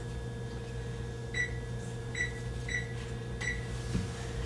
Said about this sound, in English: Close it up, and we'll set the timer for 45 minutes,